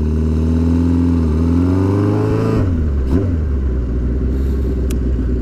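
A hardtail bobber chopper motorcycle exhaust rumbles steadily up close, with a rising rev and a dip around the middle before settling back into an even, throaty idle.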